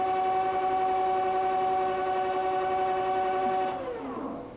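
Harrison 16 x 50 flat bed lathe with a six-jaw chuck running in high range at 600 RPM, a steady loud mechanical whine with strong tones that winds down in pitch near the end.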